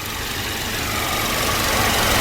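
A Hyundai car engine idles with its air conditioning compressor running, a steady low hum and rumble heard close up with no talk, growing slightly louder over a couple of seconds.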